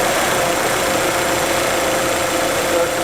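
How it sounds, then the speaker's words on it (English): Chevy Aveo engine idling with the AC compressor clutch engaged and spinning, a steady close hum with faint whine and vibration, unchanging throughout. "Our compressor clutch spinning."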